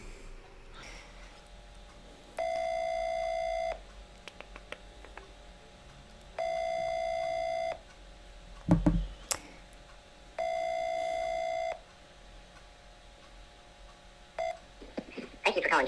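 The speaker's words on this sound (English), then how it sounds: "Hopefully you can hear this ringing." A telephone ringback tone sounds three times in even, spaced bursts, with faint clicks and a brief thump between rings.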